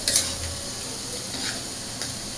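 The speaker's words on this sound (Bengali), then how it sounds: "এবার মশলা দিয়ে দিব।" Spices stirred into a pan of Malabar spinach curry, soft scraping and light sizzling with a few faint utensil clicks against the pan, quiet and close, no talking.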